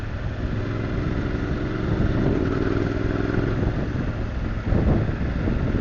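Motorcycle riding at steady speed, the engine drone continuous under heavy wind rush against the rider's microphone, with a brief surge near the end.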